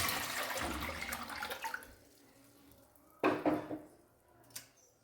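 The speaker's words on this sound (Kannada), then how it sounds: "ಸೊ ಅದಕ್ಕೆ ನಾನು ಒಂದು ಪಾತ್ರೆಯಲ್ಲಿ ನೀರು ಹಾಕ್ಕೊತಾ ಇದ್ದೀನಿ" Water splashes loudly into a kitchen vessel for washing peeled potatoes, a dense pour that fades out after about two seconds, then a couple of brief splashes and clinks follow in a quiet room.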